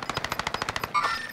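Rapid automatic gunfire from a weapon in the video game Call of Duty Warzone, a fast burst of about a dozen evenly spaced shots that stops abruptly, followed by a brief electronic tone.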